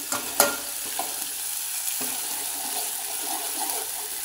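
A spoon stirs spice masala with turmeric as it fries in a pan, giving a steady close sizzle with a few sharp scraping knocks near the start, and no one talks.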